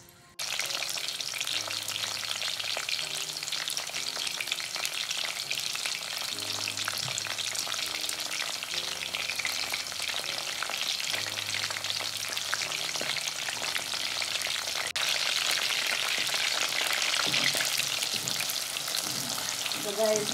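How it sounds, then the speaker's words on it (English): Liver fries in hot oil with onion, garlic and scallion, a dense, steady crackling sizzle that runs unbroken and fairly loud throughout, with faint background music underneath. "And then I'm going to start to put in my liver to french fry."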